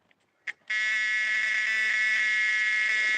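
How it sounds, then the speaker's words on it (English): A loud, steady electric door buzzer in a 1974 Chevrolet Nova drones continuously for a few seconds, following a brief click. "I got my door buzzer."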